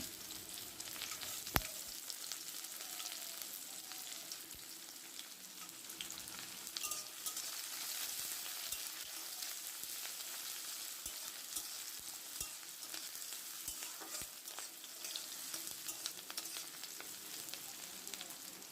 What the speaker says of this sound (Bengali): পেঁয়াজটাকে একটু ভেজে নেব